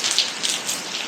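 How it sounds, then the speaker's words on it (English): Rain pouring down steadily outdoors in a wet season, a dense close hiss of drops pattering on surfaces with slight surges in intensity. "it rains every day, 10, 12 times a day"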